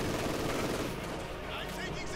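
Autocannon and rifle fire in a close-quarters battle in Company of Heroes 2, a World War II strategy game with Soviet infantry, a dense continuous wash of shots and battle noise at steady loudness, with commentary over it.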